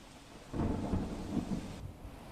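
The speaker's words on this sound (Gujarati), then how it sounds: "અત્યારે પણ ધમાકેદાર બેટિંગ વરસાદની જોવા મળી રહી છે" Heavy monsoon rain in Surat, South Gujarat, with thunder: a low rumbling swell of thunder rolls under a steady wash of rain, then eases back to continuous rainfall.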